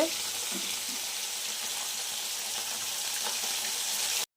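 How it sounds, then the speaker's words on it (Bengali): Parshe fish pieces fry lightly in hot oil, giving a constant close hiss and crackle that stops abruptly at the end. "কড়া করে ভাজলে হবে না, হালকা লাল লাল করে ভেজে নিতে হবে"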